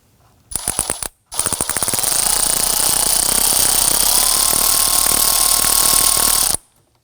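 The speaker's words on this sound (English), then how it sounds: "So we're going to use our 7mm socket and a really long extension to get on down here" A 7mm socket on a long extension works a hose clamp on the air intake tube of a 2003-2014 Volvo XC90, giving a fast ratchet clicking, a short pause, then a long steady run of rapid clicks up close.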